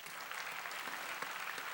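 A church congregation at a Wednesday evening service applauds in a steady, even patter of many hands, moderately quiet and a little distant, with no voices over it.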